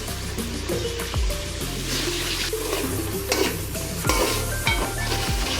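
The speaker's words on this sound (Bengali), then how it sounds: "তো আমি আরেকটু আদা রসুনগুলো ভেজে নিচ্ছি তেলের সাথে" Ginger-garlic paste frying in oil in a pan while being stirred: continuous close sizzling with repeated scraping and clinking of a utensil against the pan, over a steady background hum.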